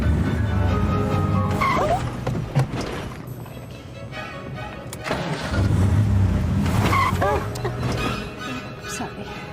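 A car pulling away in fits and starts, its engine surging and dropping in uneven lurches close by while people talk over it.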